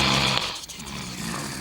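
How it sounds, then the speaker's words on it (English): Steady, raspy snoring from sleeping cartoon shapes in a children's art-and-craft show, a continuous droning breath noise heard close and alone. "Who's that snoring?"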